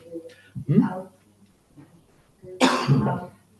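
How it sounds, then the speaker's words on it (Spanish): Two close, forceful coughs break out, one early and one after a short quiet pause, with faint vocal sounds before the first. "Es que quería toser."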